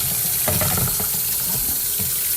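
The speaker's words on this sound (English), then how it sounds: "I'm going to give it a really, really good rinse here." Running water pours steadily over a wet collodion photographic plate during an aggressive rinse, a continuous close splashing wash with uneven gurgling surges and no talking.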